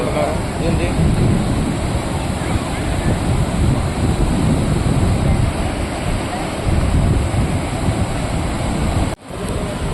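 Floodwater pours from a breached tank embankment at Kuravi gate in Mahabubabad, making a loud, steady roar of rushing water that holds at full strength for about nine seconds before cutting off briefly near the end.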